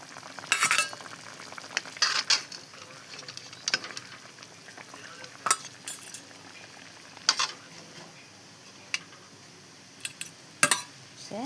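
Cauliflower florets tipped into a pan of fish curry, sizzling and frying steadily at moderate volume, with occasional sharp stirring clatters and scrapes breaking through the bubbling hiss.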